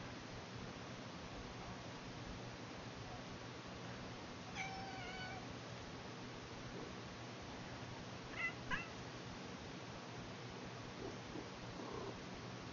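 A person imitates a cat's meow with a few brief, faint mewing calls around the middle of the clip, then two short yowls later, over a steady hiss of background noise.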